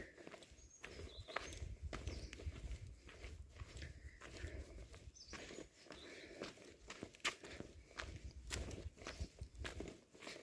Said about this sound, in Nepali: जस्ट म हिँडेको मात्रै सुनिरहेको छ क्या